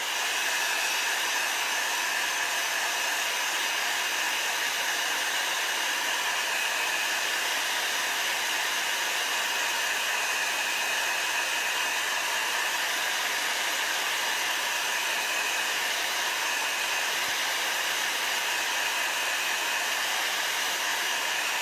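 Hair dryer blowing on a wet Chalk Couture chalk transfer, a loud, unbroken close-up airy whoosh holding steady for over twenty seconds with nothing else heard.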